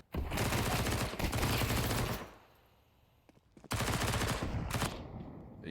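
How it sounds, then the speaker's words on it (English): SMG gunfire in Counter-Strike 2 during a regional tournament match: two loud, sustained bursts of rapid automatic shots, separated by a quiet gap of about a second and a half. "Easy does it with the SMGs"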